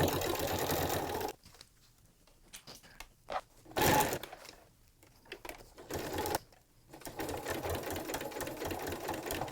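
A sewing machine stitches a toddler bib in several bursts of rapid whirring, close and clear, with short quiet gaps between runs and no talking.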